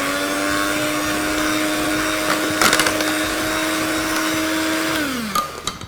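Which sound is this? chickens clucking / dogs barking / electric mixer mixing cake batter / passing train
electric mixer mixing cake batter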